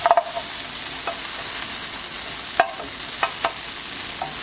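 Extra garlic pieces sizzle in butter in a hot pan: a bright, steady frying hiss broken by sharp stirring and scraping knocks, close up, without any voices.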